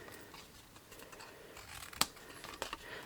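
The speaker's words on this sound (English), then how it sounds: "Let's get a better pair of scissors." Scissors snip through paper for a gift box: soft paper rustle and handling, then a crisp, sharp cut near the microphone followed by a couple of fainter snips.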